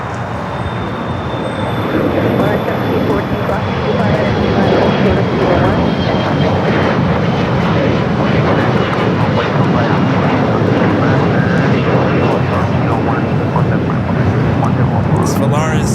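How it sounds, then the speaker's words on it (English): Volaris Airbus A321neo airliner from Guadalajara at Los Angeles International, a steady, loud engine roar holding throughout with a faint high whine, and voices talking underneath. "This Volaris A321 Neo, brand new aircraft just delivered in June of last year, coming from Guadalajara"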